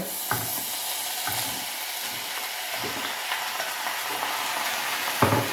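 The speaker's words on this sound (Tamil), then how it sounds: "இந்த வெட்டி வச்சுக்கிற வெண்டைக்காய் போட்டுறோம்" Chopped okra frying in oil in a pan, with a steady close sizzle and several clattering scrapes of a spatula stirring the pieces, one sharp knock near the end.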